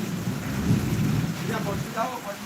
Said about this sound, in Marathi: पाऊस चालू झालेला आहे आपण बघतोय की विजांचा कडकडाट धडधडाट चालू झालेला आहे